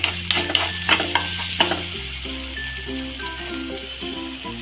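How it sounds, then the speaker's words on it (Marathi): Finely chopped onion with curry leaves frying in a pan crackles and sizzles while a spoon scrapes and stirs in several distinct strokes, then the sizzle settles into a softer steady fry. "बारीक चिरलेला कांदा लालसर परतून घेऊया"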